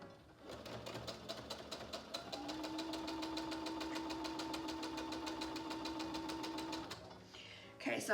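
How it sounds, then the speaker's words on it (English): A sewing machine chain-pieces fabric for a Broken Dishes quilt block, running in a steady, rapid needle rhythm for several seconds before stopping, followed by a brief rustle of fabric. "we're just going to chain piece this real fast"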